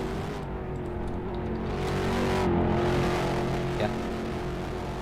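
Classic car racing around the Richmond track in a video game mod, a steady engine drone with a rising revving pitch near mid-clip, moderately loud with a faint passing squeal.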